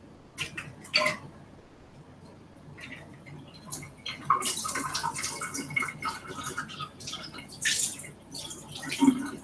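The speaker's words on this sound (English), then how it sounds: "Just rinsing the bowl right there." A bowl rinsed under running water: splashing and irregular trickling, close by, rising and falling as the bowl is moved.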